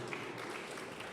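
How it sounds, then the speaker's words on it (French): A French science-communication event audience applauds a presenter taking the stage, a steady wash of many hands clapping at once, fairly faint and distant with no other sound over it. "Merci de votre applaudissement."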